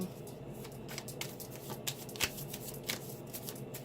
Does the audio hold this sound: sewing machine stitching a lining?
no